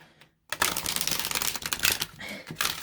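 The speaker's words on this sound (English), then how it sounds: "I'm going to see if I'll be able to shuffle these." After a brief silence, a dense crisp rush of slightly thick tarot cards being shuffled, riffling and flicking close by.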